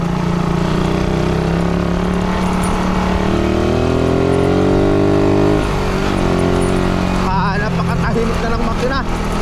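Suzuki Raider 150 motorcycle engine with a past stalling and misfiring fault runs loud and continuously, its pitch climbing as it revs then dropping, with a voice talking over it throughout.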